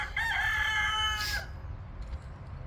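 A rooster crows once, close and clear, over a low rumbling background on a farm with chickens and turkeys, then the scene settles into steady ambient noise.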